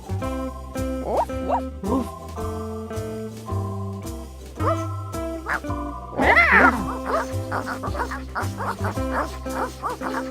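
Cartoonish dog barks and yips from a toddler counting game ring out several times over a bouncy synthesized music track.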